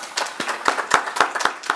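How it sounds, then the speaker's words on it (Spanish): A lecture audience claps for the speaker, the hand claps coming in a loose, fairly steady rhythm of several separate claps over a short span, moderately close. "le regalamos algunos aplausos a la maestra para que escuchemos su ponencia"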